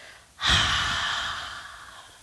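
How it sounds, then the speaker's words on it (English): A single long, audible Ujjayi yoga breath out with a hoarse, throaty rasp, starting abruptly and slowly fading over about two seconds, close to the ear. "an Ujjayi breath. That's a fun breath. It kind of sounds like Darth Vader."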